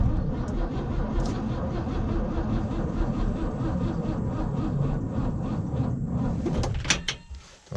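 An abandoned 1957 Chevy with a dead battery makes a steady, dense mechanical grinding and rattling for several seconds, a weak cranking attempt that cuts off abruptly near the end, with no voices.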